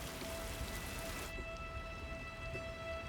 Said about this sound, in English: The rain runs off the mountains, building momentum as it descends to the valley floor.